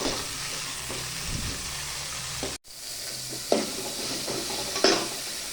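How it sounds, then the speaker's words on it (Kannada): Tomatoes fry in a pan with a steady, loud sizzle and hiss, broken by a brief dropout and a few scraping stirs, with no talk over it. "ತುಂಬ ಸೌಂಡ್ ಮಾಡ್ತೀನಿ ಫ್ರೆಂಡ್, ಅದಕ್ಕೆ ಈಗ ಟೊಮೊಟೊ ಹುರ್ಕೊಳ್ತಾ ಇದ್ದೀನಿ"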